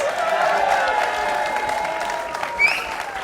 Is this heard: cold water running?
no